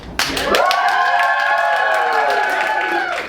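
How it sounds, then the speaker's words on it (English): Theatre audience at a Yale University performance of The Mystery of Edwin Drood cheering and whooping loudly together after a sudden start, a sustained mass of voices with applause that holds for about three seconds before easing off. "Please cheer if you believe Sappy should be Scottish."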